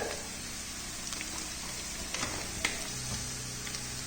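Onions sizzle steadily while frying in a pan for a fish roe thoran, a continuous close hiss with a few light clicks and stirring scrapes, no voices.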